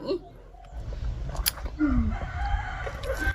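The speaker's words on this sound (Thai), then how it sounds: "เสียงไก่ดังมากนะคะ" A rooster crows close by, its call rising and falling, with other fowl clucking around it.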